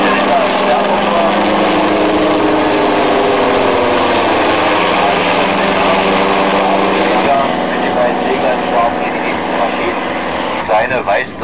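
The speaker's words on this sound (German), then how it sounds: "geschleppt von ebenfalls einem polnischen Flugzeug, von einer DZL 104. Über ein Zickler von 260 PS Stammleistung, ein 19-Liter-Sternmotor." A Polish PZL-104 tow plane's 260 hp, 19-litre radial engine drones loudly and steadily, with a deep rumbling roar that shifts slightly in tone partway through, close by, at an airfield festival in Dessau.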